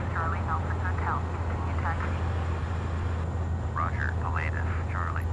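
A steady low engine drone from a Pilatus PC-12 turboprop in Microsoft Flight Simulator X runs continuously while taxiing, with a voice talking over it.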